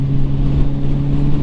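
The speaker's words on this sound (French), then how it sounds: "J'aime bien ce pot, j'ai toujours le catalyseur mais la sonorité elle est propre." Motorcycle exhaust fitted with a catalytic converter, a new bike, producing a steady, fairly loud engine drone with strong low harmonics throughout, no voices.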